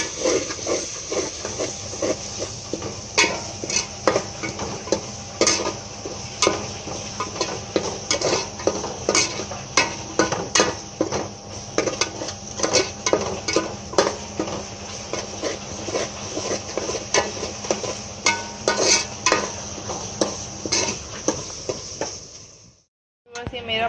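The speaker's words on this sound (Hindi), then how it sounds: "मैं अपने स्पाइसेस शामिल करके इसको अच्छी तरह मिला लूँगी इनमें।" A utensil steadily stirs spices into vegetable rice in a pan, producing close, rapid scraping and tapping strokes in a continuous rhythm with a soft sizzle underneath, ending abruptly.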